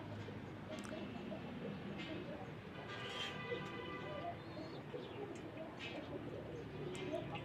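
Domestic pigeons coo in soft, steady low bursts while their feathers are being coloured by hand, with a constant background murmur throughout.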